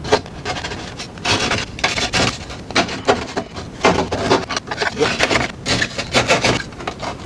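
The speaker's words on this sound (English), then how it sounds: "go ahead and grab your drywall saw" A drywall saw cuts by hand through a drywall panel, giving a rough rasping rhythm of repeated push-pull strokes, close and fairly loud, with no voices.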